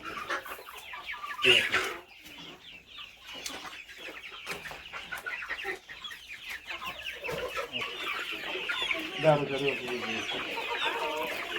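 Many chickens cluck and chatter continuously in a dense flock, close and fairly loud, with a brief louder burst early on.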